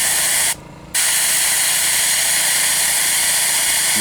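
An airbrush sprays paint to weather model railway track, a loud, steady hiss that cuts out briefly near the start and then resumes without pause.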